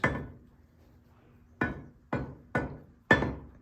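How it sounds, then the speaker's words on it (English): Rawhide mallet striking metal in a blacksmith's shop, used for straightening twists without marring edges: five sharp, ringing blows, a single strike and then four evenly spaced hits, close and clear with no talk. "This is a rawhide mallet, and it's really good for straightening twists, and that way you don't mar the edges."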